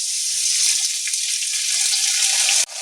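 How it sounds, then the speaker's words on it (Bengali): Potatoes fry in a pan for a mustard cabbage dish, giving a loud, close, continuous hissing sizzle with occasional faint ticks of stirring. "আলুটা ভাজা ভাজা হয়ে গেছে"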